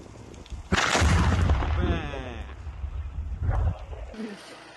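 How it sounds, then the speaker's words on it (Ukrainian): An FPV drone explodes in mid-air: a sudden heavy blast bursts out, followed by a rumbling, rolling tail and a second thump as the echo fades. "Ворожий ФПВ-дрон буквально вибухає в повітрі, не долітаючи до цілей."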